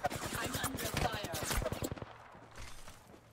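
Rapid automatic gunfire in Apex Legends: a fast, loud stream of shots for about two seconds, then it stops and only faint, quieter background sound follows.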